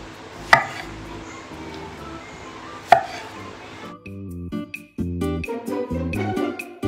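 A knife quarters tomatoes for sinigang, giving two sharp, close chops on a board a couple of seconds apart, followed by music that carries on to the end.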